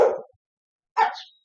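A dog barking at a mail carrier gives two short, sharp barks close by, separated by nearly a second of silence.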